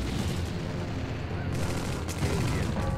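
Dense, continuous gunfire and explosions from a real-time strategy battle in Empire Earth, a steady roar of overlapping shots with a louder burst near the end, with faint voices mixed in.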